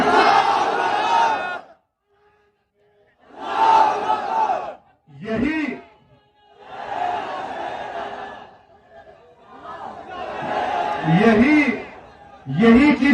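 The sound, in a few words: rally crowd chanting the Nara-e-Takbir slogan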